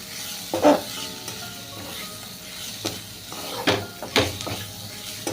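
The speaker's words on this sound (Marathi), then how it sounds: "थोडीशी हळद आता परतून घेऊया" Red chilli powder and turmeric sautéing in a pan, a soft sizzle under intermittent scraping strokes of a spoon and a few louder knocks against the metal, close and fairly quiet.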